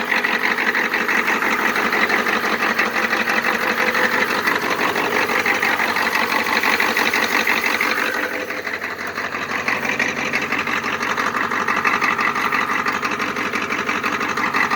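An old engine with a cold idle solenoid and a road draft tube idles through a cold start, a loud, steady, rapid chugging knock that dips briefly midway and then carries on unbroken, with no talking.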